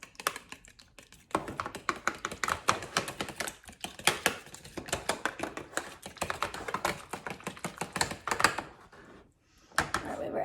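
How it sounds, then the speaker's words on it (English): Fork whisking eggs in a bowl for chicken tenders, a fast run of close, sharp clicking taps against the bowl that pauses briefly near the end, then resumes. "Get another fork and just whisk these eggs."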